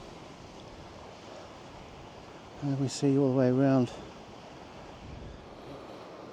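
Waves splash at the foot of the cliffs by Church Cove, heard from the clifftop as a steady, distant wash mixed with wind noise, while someone talks briefly partway through.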